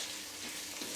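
Rice stirred in hot onion-infused oil in a pan, a steady close sizzle with soft scraping from the stirring, and no voices.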